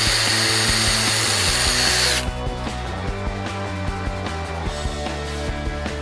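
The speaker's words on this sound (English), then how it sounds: "drill a pilot hole for your new screws" A power drill whines loudly and continuously, then drops to a lower, steady grinding hum with a faint rhythmic ticking as it bores a pilot hole for screws into timber.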